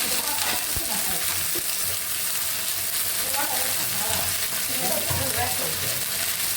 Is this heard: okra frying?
yes